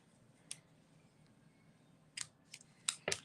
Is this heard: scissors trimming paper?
yes